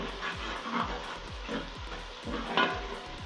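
Seasoning cubes and salt being stirred in a pot, rhythmic scraping strokes repeating roughly every quarter second, close and steady with a light sizzle underneath.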